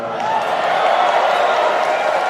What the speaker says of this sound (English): It's quite a crowd out there.